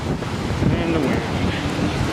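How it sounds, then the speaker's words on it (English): Wind buffets a microphone outdoors on a sunny day in New York near building balconies, a steady loud rumbling rush with gusty swells throughout, with faint voices underneath. "And the wind."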